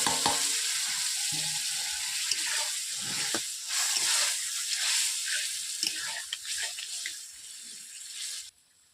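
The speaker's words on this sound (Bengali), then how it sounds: "বন্ধুরা দেখতেই পাচ্ছেন তরকারিটা ফুটছে" Potato and eggplant curry bubbles and sizzles in a pan, a steady close hiss with small pops and stirring clicks running throughout before cutting off near the end.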